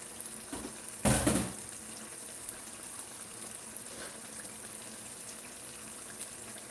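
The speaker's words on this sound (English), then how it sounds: "You remember the oil I drained from the banga soup? I'm going to add it." Cooking oil drained earlier from banga soup splashes into a pot in one short, loud pour. A quiet simmering hiss follows.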